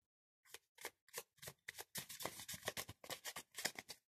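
A deck of Rider-Waite tarot cards is shuffled by hand, about a dozen crisp, close riffling bursts in a fairly even rhythm, with no talking over them.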